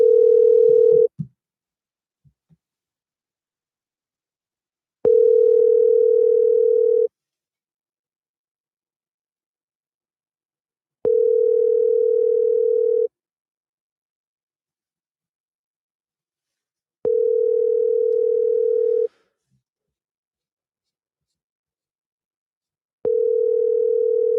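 Outgoing phone call ringback tone: a steady single-pitch tone repeating five times, each about two seconds long with roughly four seconds of silence between, and a brief click near the start.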